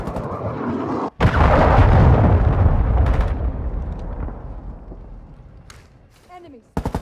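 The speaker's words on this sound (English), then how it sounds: "Hostiles launched a cruise missile." Cruise missile strike in Call of Duty: Modern Warfare II team deathmatch on Mercado Las Almas: a sudden heavy boom followed by a long rumbling roar that slowly fades over several seconds, with a few faint later pops.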